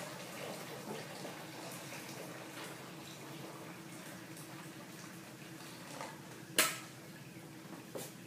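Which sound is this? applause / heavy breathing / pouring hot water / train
pouring hot water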